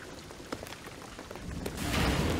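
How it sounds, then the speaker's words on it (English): Rain in the Shadow of the Tomb Raider video game, soft scattered drops that build into a steadier, louder downpour toward the end. "What I'm telling you is the rain is gonna flood it"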